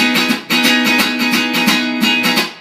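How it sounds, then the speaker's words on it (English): A guitar chord strummed with a pick, struck several times in a rhythmic up-and-down pattern, bright and close with ringing sustain between strokes, no talking. "Because I can play a chord like this and it can sound like this."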